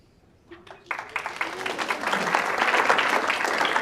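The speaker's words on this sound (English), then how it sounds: "let's give another round of applause for our amazing puppy raisers" An audience at a Canine Companions graduation ceremony breaks into applause for puppy raisers, starting from near silence with a few claps, then swelling into steady, growing clapping that fills the room.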